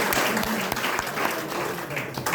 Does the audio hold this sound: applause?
yes